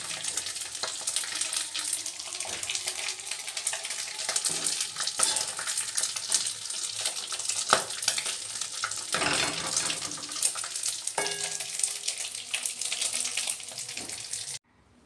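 Crispy rice bits frying in hot oil, a dense, steady crackling sizzle close to the microphone with occasional stirring scrapes, continuing for about fourteen seconds before stopping abruptly, no talking.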